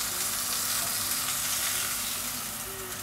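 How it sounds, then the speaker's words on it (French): Carrots sizzle steadily in a saucepan as kombucha vinegar deglazes the pan, a continuous loud hiss and crackle of frying with no talk over it. "venir déglacer avec un peu de vinaigre de kombucha de la préserverie"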